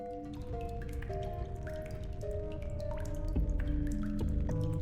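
Shower water drips in the video game The Darkside Detective, a steady patter of droplets over a sustained tonal musical backdrop, close and fairly loud throughout.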